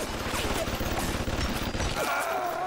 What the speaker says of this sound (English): Fucking turrets.